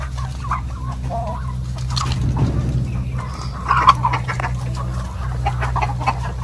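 Chickens cluck and call in a steady low farmyard din, with a few louder squawks rising above the background.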